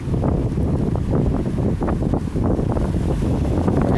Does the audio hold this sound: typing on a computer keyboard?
no